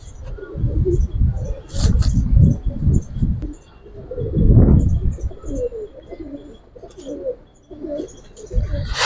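Giribaz pigeons of an old pure breed coo repeatedly up close, low throaty bursts rising and falling in uneven rhythm, with a few higher chirps mixed in and no talking.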